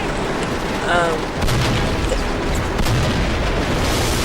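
A statue is blasted in the Mercenaries 2 video game, producing a deep booming explosion with rumbling debris that lingers, with a voice talking briefly over it.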